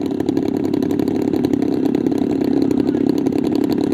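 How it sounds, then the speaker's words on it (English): Large-scale model B-26 Marauder warbird engines roar steadily from about 30 feet away, a loud, continuous throbbing drone with no pauses. "You can feel the power of the engines as it reverberates through your body."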